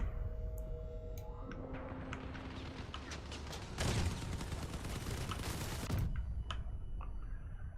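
Rapid bursts of video game gunfire, including possible cannon shots, crackle and clatter continuously for several seconds, with louder volleys near the middle and end before the firing drops away.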